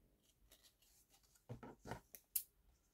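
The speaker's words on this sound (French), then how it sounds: "je vais couper ici" Scissors snip through paper while making a safari-themed scrapbook album, a few quiet close cuts and rustles ending in a sharper snip, with no talking.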